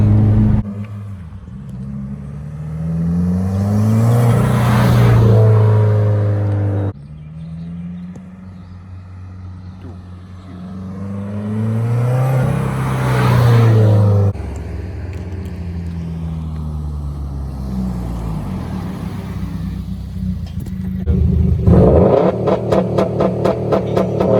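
A tuned Subaru STI revs past on the street with its engine note rising and falling in a couple of loud surging passes, followed by a rough idling rumble and crackle, all without talk.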